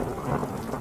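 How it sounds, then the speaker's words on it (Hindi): Heavy rain pours with thunder in a Hindi animated cartoon, a dense, steady wash of downpour and low rumble filling the whole brief moment with no voices. "बारिश थमने की नाम ही नहीं ले रही।"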